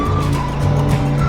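A Tamiya DF02 Plasma Edge RC car with upgrades runs on a track in a brief burst of whining electric motor and tire scrub, loud and close.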